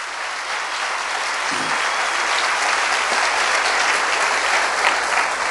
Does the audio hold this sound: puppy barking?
no